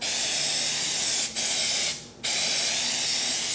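Spray tack adhesive hisses from an aerosol can onto a screen printing pallet in long, steady bursts, with two short pauses as the nozzle is released and pressed again, loud and close with no talking.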